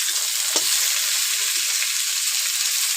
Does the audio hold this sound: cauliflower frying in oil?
yes